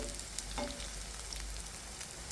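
Pumpkin flower fritters fry in hot oil with a steady, close sizzle and a few small pops, and there is no talking over it.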